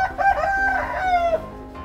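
A rooster crows on a farm, one clear, close, drawn-out cock-a-doodle-doo with a rising then falling call, alone and without talk.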